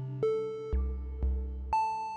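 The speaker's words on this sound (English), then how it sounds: "Just really nice, mellow, sort of plonking, almost like a bass tom kind of sound." Triangle-wave voice from a Synthesizers.com modular synthesizer, four mellow, plonking bass-tom-like notes struck about every half second, each with a soft attack and gentle decay, heard alone and close.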